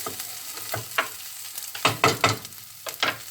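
Pineapple fried rice is stir-fried in a pan, crackling softly under a run of uneven scraping and tossing strokes that grow louder toward the middle, close and without talk.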